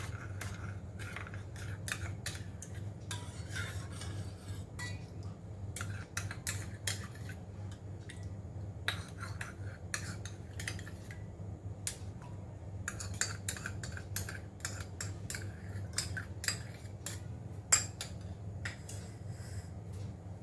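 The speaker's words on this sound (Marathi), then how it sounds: "हे सर्व दही मिक्स केल्यावर आपल्याला हे फेटणं घ्यायचं आहे त्यांनी चांगलं हे मिक्स करून घ्यायचं आहे" A whisk stirs yogurt into warm milk in a metal pot or bowl, making a steady series of quick, light clinks and scrapes that continue throughout over a low background hum.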